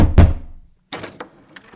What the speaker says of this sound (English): The door slowly opened.